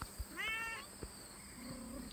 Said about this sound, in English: You just keep meowing.